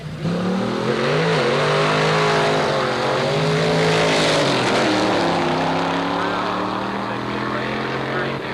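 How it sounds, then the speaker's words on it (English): At a drag strip, a Ford races a 1951 Chevy pickup with a big block Chevy engine, and their loud engines roar together with rising and falling pitch throughout. "Ford up against the 51 Chevy pickup powered by a big block Chevy"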